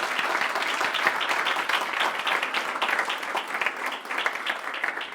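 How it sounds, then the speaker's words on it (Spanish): Sustained applause from a church congregation praising the Holy Spirit, dense steady clapping at moderate level that carries evenly throughout without letting up. "Démosle un fuerte aplauso al Espíritu Santo."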